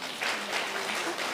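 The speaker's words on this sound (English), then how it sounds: "Let's clap for them." Brief audience clapping at a formal launch event for a national ethics and corruption survey, a short burst of many hands clapping together for just over a second.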